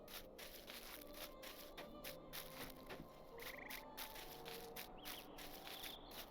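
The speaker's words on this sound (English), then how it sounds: "You see the frogs?" Frogs or toads croak in a Lord of the Rings Online game zone, their repeated rhythmic croaks and chirps pulsing over a soft continuous ambient bed, with no voices.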